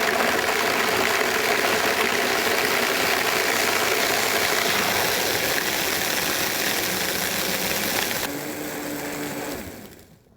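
A Vitamix Series 200 blender runs at low variable speed, crushing ice for a frozen margarita: a loud, steady whirring grind that holds for about eight seconds, then shifts in tone before winding down and stopping near the end.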